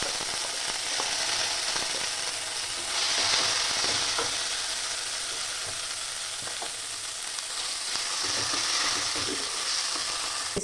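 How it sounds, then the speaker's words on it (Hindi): Ginger paste sizzles and fries in ghee in a pan, a steady close crackling hiss with a few louder bursts as it is stirred, with no voices. "अब इसमें हम जो अदरक का पेस्ट पीसे थे वो डाल देंगे।"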